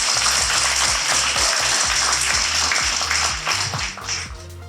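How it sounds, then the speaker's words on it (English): Audience at a 2024 commencement ceremony clapping for the graduates, a dense, continuous burst of applause with distinct individual claps, loud and steady before thinning out toward the end. "Let's take a moment to clap for the graduates."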